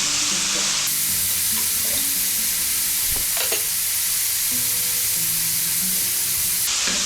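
Potato pieces sautéing in a hot pan after salt is added for a spicy potato bhaji, a steady loud sizzle with stirring scrapes and a brief clatter midway, no talking.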